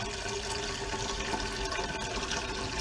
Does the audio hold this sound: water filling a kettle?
yes